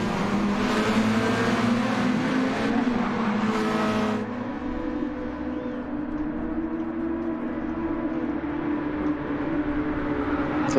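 Formula 3 race cars lap Suzuka in a racing game, their engines holding a steady droning whine. A brighter, noisier pass fades after about four seconds, leaving a sustained mid-distance engine hum without any talk.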